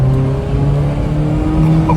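A twin-engine Honda CRX accelerating hard from inside the cabin, a loud sustained engine drone with steady low harmonics rising slightly, close and continuous.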